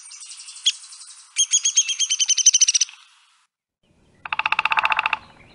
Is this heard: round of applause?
no